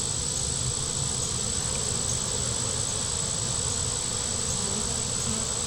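Honey bees buzz loudly and continuously at an open hive, a dense, unbroken swarm drone close by with no voices over it.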